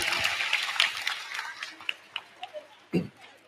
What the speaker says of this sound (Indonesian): Tepuk tangan lagi buat mereka.